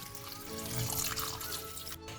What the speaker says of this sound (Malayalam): ഇതിലേക്ക് ആവശ്യത്തിന് വെള്ളം ഒഴിച്ചു കൊടുക്കാം